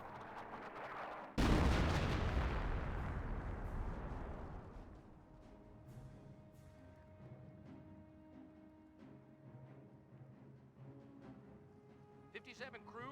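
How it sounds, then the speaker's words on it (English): An artillery shell strikes in the World War II strategy game Company of Heroes, one sudden loud blast that rumbles away over several seconds, followed by quieter background battle noise and faint distant pops. "Artillery raining in back here."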